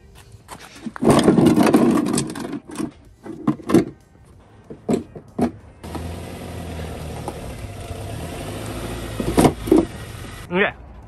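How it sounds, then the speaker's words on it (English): A Honda Fit being driven up onto ramps for an oil change: a low engine rumble and tyre scraping swell in the second half, with people talking intermittently over it. "and then we're gonna drive the car onto the ramps."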